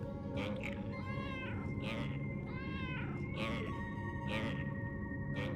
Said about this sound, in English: I think we are meowing at it.